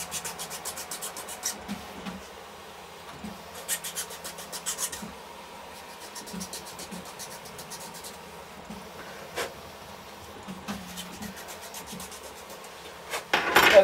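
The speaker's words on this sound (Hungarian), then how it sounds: "Lehet, hogy ezen is alakítanom kell, ha megtalálom a reszelőt." A hand file rasps against a 3D-printed plastic part in repeated short strokes, close by, with bursts of rubbing and scraping separated by pauses and a louder flurry at the end.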